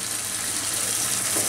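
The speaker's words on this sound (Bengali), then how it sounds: "উনি চিকেন স্টকের পানি দিচ্ছেন" Chicken stock being poured into a pan for a Chinese-style masala chicken curry in a restaurant kitchen, a steady splashing liquid stream heard close and alone for a moment.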